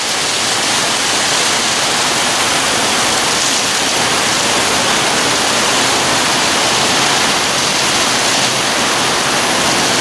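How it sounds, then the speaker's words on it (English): A loud, steady roar of dense noise persists throughout, like heavy hail and wind battering surfaces, unbroken and close. "Sounds like we got some hail."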